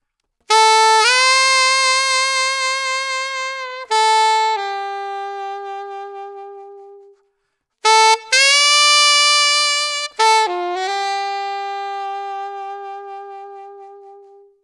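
A saxophone holds long notes that begin steady and then take on vibrato, the wavering speeding up, with short breaks between phrases.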